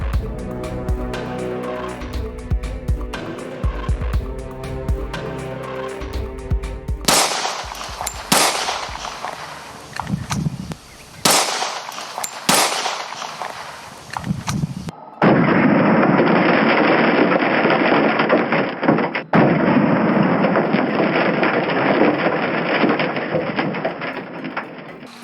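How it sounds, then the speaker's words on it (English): A Glock .40 caliber pistol fires 180 grain hollow point rounds into a car door, with loud sharp reports that break into a steady roaring wash of noise and outdoor background. "now we're going to fire several common handgun rounds into this car door"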